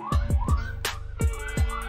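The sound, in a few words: ambulance siren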